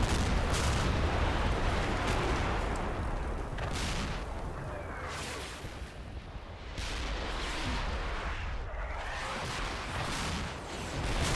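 German artillery fire in the Combat Mission: Battle for Normandy war game rumbles as a dense, continuous barrage of booms and crackling blasts. It is loud and sustained, with no talking.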